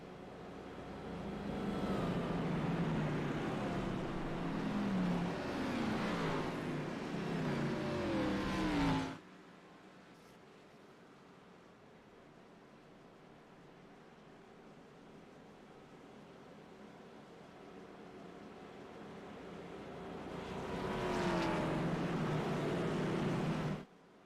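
Xfinity Series race cars at Kansas, on an overcast day with a cold track, roar past in a loud burst, fade to a distant hum, then swell again as the field rolls toward the restart.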